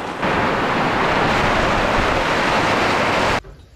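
Strong wind on a hilltop in Sajek Valley, a loud, steady roar buffeting the microphone for about three seconds before cutting off abruptly, no voices.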